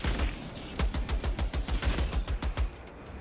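A Helldivers weapon firing at a slow rate of fire, a steady rhythmic string of about fifteen evenly spaced loud shots, each a punchy thump with a crack, close and alone.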